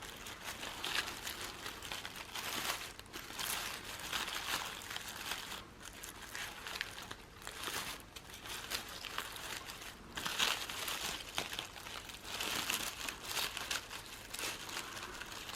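Thin tissue paper from a Dollarama paper flower kit crinkles and rustles steadily as the layers are pulled up toward the middle, close and continuous with small crunchy bursts throughout.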